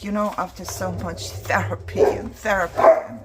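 Pet dogs bark in sharp, repeated yelps close by, mixed with a person talking steadily over them indoors.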